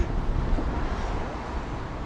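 Cold wind buffeting outdoors near a terminal, a dense continuous roar of gusts striking the microphone, loud and steady with no voices.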